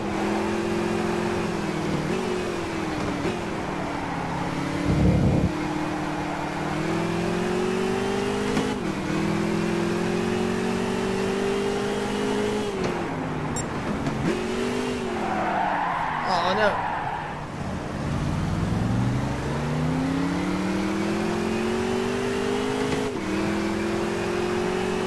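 A Shelby Cobra racing at Laguna Seca in a video game revs hard through repeated rising engine pulls and downshifts, with tire squeals and skids, while a person talks over it at times.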